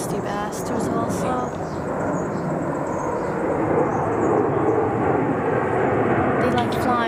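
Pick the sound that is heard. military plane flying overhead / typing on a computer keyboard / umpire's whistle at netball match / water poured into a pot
military plane flying overhead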